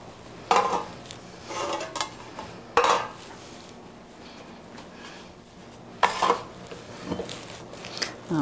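Scattered clinks and scrapes of a spoon against metal bread pans as stiff apple cinnamon batter is dropped in, several sharp knocks with quieter scraping between, close and otherwise quiet.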